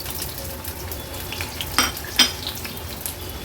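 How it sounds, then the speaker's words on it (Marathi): Finely chopped onion and green chillies frying in hot oil in a kadhai, giving a steady low sizzle with a couple of sharp metal utensil clinks near the middle, no talking. "तेल छान गरम झालं की फोडणीला आपण हा बारीक चिरलेला कांदा आणि हिरव्या मिरच्या घालणार आहोत"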